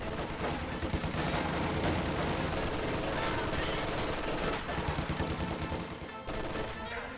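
Dense, continuous gunfire from a World War II strategy video game: rapid machine-gun bursts and overlapping shots, loud and sustained across the whole stretch.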